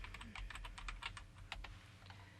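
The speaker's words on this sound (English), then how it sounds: "I am clicking my enter or return key after each time I type something into any field inside of Dreamweaver" Quick, quiet keystrokes on a computer keyboard patter in a short burst, ending with a firmer press of the enter key, alone with no talking.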